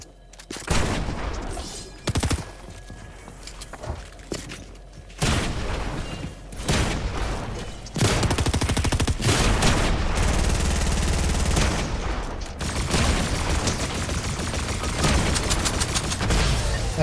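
Pulse rifle fire in Fortnite: rapid, loud automatic bursts crackle in dense volleys, broken by short pauses and swelling into near-continuous shooting during a chaotic fight.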